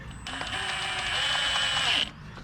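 A ratchet with a 13 mm socket tightens the bolt on a Ford Ranger timing belt tensioner, giving one short, steady run of fine mechanical clicking up close, with no speech.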